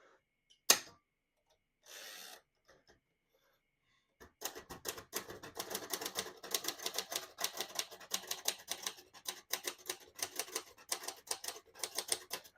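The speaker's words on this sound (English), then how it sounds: "Absolutely beautiful typing machine, very high quality, all metal" A lone click and a short mechanical whir, then rapid, steady keystrokes on an all-metal 1959 Royal Futura 600 manual portable typewriter, loud and close, clacking on without pause.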